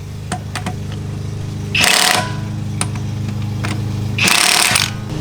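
An impact wrench runs a Jeep's wheel lug nuts down snug in two loud, roughly one-second bursts, with a low steady hum and faint clicks in between. There is no talking.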